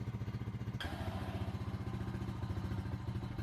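A Honda Rancher ATV engine idling close by, a steady low throbbing putter with an even pulse, briefly interrupted near the start by a sharp click or clatter.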